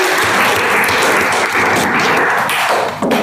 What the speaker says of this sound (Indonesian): Tepuk tangan buat Roy.